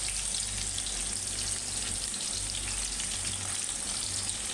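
Onions, green chilies and spices fry in a pan for a prawn bhuna, giving a dense, steady sizzle close up with no talking over it.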